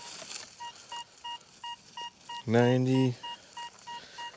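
Repeated short target tones from a Deus II metal detector's speaker, a steady series of beeps with one longer, louder tone in the middle, set outdoors near a tree under quiet background.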